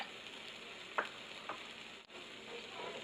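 Tomatoes going into a pan of frying onions and corn tortillas for migas, a steady soft sizzle with a couple of brief stirring scrapes, fairly quiet and without speech.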